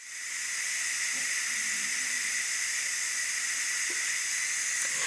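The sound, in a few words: steam releasing from Ninja Foodi pressure cooker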